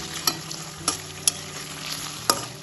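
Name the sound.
paneer lightly frying in oil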